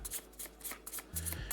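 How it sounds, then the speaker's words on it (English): A deck of mage cards from the Dragons of Etchinstone board game gets a vigorous shuffle: close, rapid papery riffling bursts that repeat in quick succession with no voices. "this is my deck of mages, so I'm going to give this a good shuffle here"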